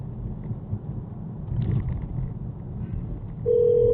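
Inside a moving car, a hands-free phone call to 911 starts, with a steady low ringback tone coming in near the end over constant road and engine rumble.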